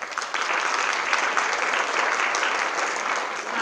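A visual communication graduation audience gives a graduate a dense, even round of applause, loud and continuous throughout with no voices standing out.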